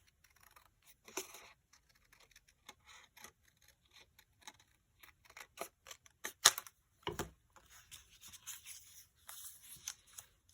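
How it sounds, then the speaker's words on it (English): Scissors snip apart paper planner pockets close up, with a run of soft, irregular cuts and rustles that grow denser toward the end. No one speaks. "Let me cut them apart."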